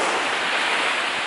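Ocean waves break steadily on the beach at Gulf Shores at sunrise, a continuous broadband wash of surf with no voices over it.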